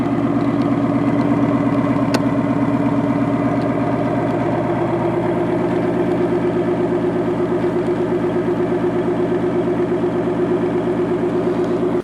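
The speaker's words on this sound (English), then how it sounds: "this is what it sounds like from the outside" A 2020 Ford Mustang GT idles with its V8 exhaust heard from outside the car: a steady, loud, rumbling burble with an even throbbing pulse and no talk.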